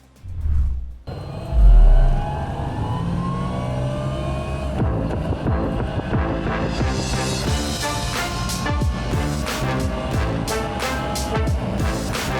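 A BYD Seagull small electric hatchback driving, with a steady, loud drive and road noise throughout after a couple of brief bumps at the start.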